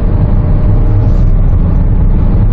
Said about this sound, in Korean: 가속 붙는 거 한번 보세요.